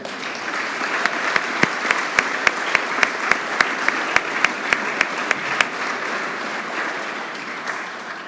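Audience at a sports hall of fame banquet applauding steadily for several seconds, a loud, dense wash of many hands clapping, with a few sharper claps standing out and no cheering voices clear above it.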